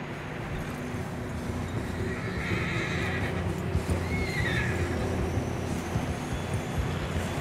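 Horses in Red Dead Redemption 2 whinny against a steady outdoor background, with faint hoof movement in a continuous low rumble, and a couple of brief neighs stand out at middle distance.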